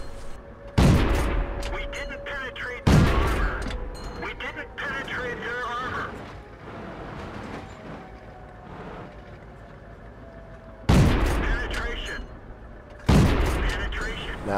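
Tank cannon shots in World of Tanks on the El Halluf map, four loud booming blasts spaced irregularly, each with a sharp onset and a rumbling decay, heard over continuous engine rumble and a person talking.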